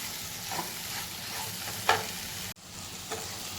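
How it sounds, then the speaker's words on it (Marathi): Marinated soybean chunks stir-fried in a pan over a low flame, with a steady soft sizzle and a few scraping stirs, including one sharper clatter near the middle; no one speaks. "ते हे मॅरिनेट केलेलं आपण सोयाबीन आहे ते आपण ह्याच्यामध्ये टाकून घ्यायचे आणि बारीक गॅसवरतीच त्यांना परतवायचं आहे"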